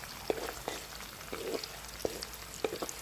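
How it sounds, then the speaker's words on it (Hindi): Onions sizzle in hot ghee with a continuous soft frying hiss, punctuated by several crisp spatula taps and scrapes, close up and with no voices. "अच्छी तरह घी गरम हो चुका है तो हम इसमें प्याज डाल देंगे। इनको हम फ्राई ज़रूर करेंगे"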